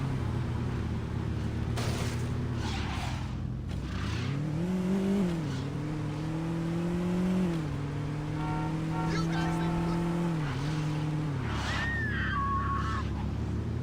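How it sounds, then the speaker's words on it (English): A car engine in Saints Row drones loud and steady, its pitch climbing and dropping as it shifts through gears, with revs rising again mid-clip and brief higher whines near the end. "Sounds like it just dropped into another gear"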